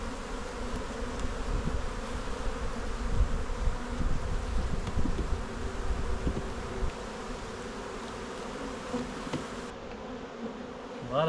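Honey bees swarm around an open beehive that is being upgraded to an Apimaye hive, giving a dense, continuous buzz close by with no talking.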